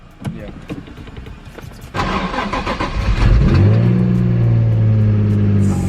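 A stock Nissan 350Z engine with a misfire cranks and starts, then idles loudly with an uneven running note, after clicks and faint sounds from the car beforehand.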